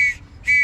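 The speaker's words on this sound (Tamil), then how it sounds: "இந்த செல்ஃப் ஜாக்கெட்டில் எனக்கு ரொம்பவே பிடிச்சது இந்த விசில் தாங்க." A life jacket whistle blown in two short shrill blasts separated by a brief gap, close and fairly loud, with no talking.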